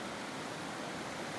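French Creek flows steadily, an even broadband rush of moving water that holds without change, close and continuous with no voices.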